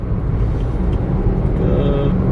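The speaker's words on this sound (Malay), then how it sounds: "Dan sekarang kita berada di jalan highway jalan besar." Steady road traffic on the Kepayan highway, a big road leading to the airport, with cars and heavier vehicles rumbling past continuously at close range and a faint brake hiss near the end.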